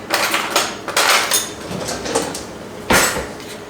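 Flatbread set into a metal pan, then a knife picked up, making a few sharp clanks and clinks of metal and cookware in quick succession, close and loud.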